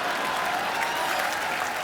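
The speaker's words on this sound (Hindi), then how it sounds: "जोरदार तालियां" Loud, dense applause from a TV comedy show studio audience, steady clapping filling the whole stretch without a break.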